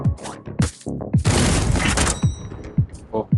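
Gunfire in the video game Super Champs, a long dense burst of rapid shots lasting over a second, surrounded by short sharp thuds and game effects, with someone speaking in between.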